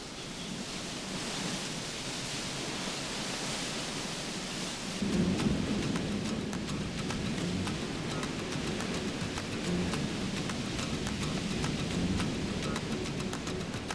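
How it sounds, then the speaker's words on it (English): A thundering waterfall roars in a Pantanal wetland forest at dusk, a dense, continuous rushing wash of water that swells louder after a few seconds and stays steady and powerful. "they fly ever closer to the falls, looking for a chance to penetrate the thundering curtain of water"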